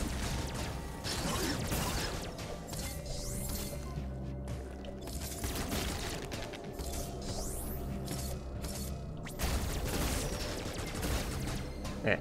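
Shooting in Metroid Dread, rapid bursts of sci-fi weapon fire with metallic zaps and mechanical clatter, repeated in clusters over a dense, continuous game soundscape.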